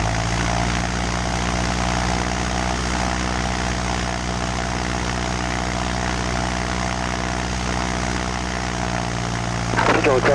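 A small propeller airplane's piston engine held at 1700 rpm during run-up before takeoff at Mesquite Airport, a loud, steady, continuous drone with a strong low throb filling the whole stretch.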